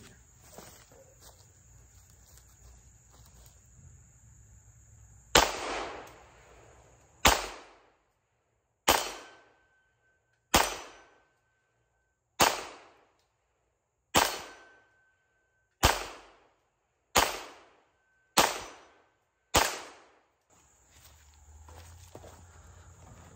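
A GSG Firefly .22 pistol fires about ten sharp shots outdoors, each a loud crack with a short ringing decay, spaced one to two seconds apart, over a quiet background.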